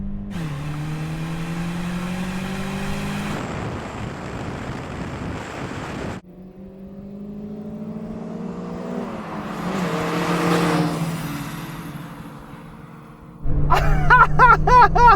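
Volkswagen GTI cars drag racing side by side, engines revving hard with rising pitch, a sudden drop at a gear change, wind rush, and a loud burst of acceleration at the end.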